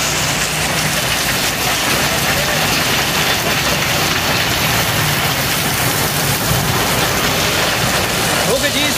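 A heavy monsoon downpour roars steadily and loudly throughout, a dense constant hiss of rain with no break and a faint low rumble beneath.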